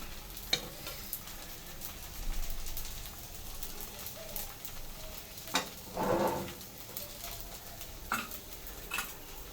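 Coriander seeds stirred in a hot pan for dal, giving a soft, steady sizzle with scattered scraping and stirring strokes and a denser swell near the end, no talking.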